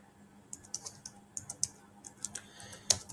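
Computer keyboard typing in a quiet room, a run of separate crisp key clicks at an uneven pace, ending with one louder, harder keystroke near the end.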